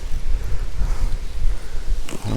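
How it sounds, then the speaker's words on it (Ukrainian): Strong wind buffets and roars steadily against the microphone, loud and unbroken, with a brief rustle near the end. "Дуже сильний вітер"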